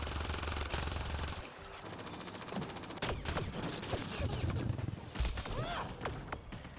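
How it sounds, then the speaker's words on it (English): Enemy gunfire in Mass Effect Andromeda crackles in bursts of rapid shots, moderately loud, mixed with sharp impacts and game effects before it thins out near the end. "of course they stopped shooting when I raised the shield"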